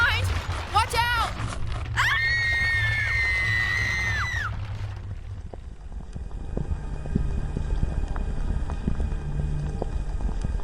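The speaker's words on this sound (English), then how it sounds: "Man, that was a long scream." A long, high, wavering scream sustained for several seconds rings out in an audio drama, set over a steady low rumble and clattering background, then fades into continued ambience.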